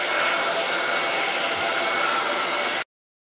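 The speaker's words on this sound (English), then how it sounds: "Do you have my hair dryer?" A hair dryer blows in a steady, loud whoosh of airy noise for nearly three seconds, then cuts off abruptly into silence.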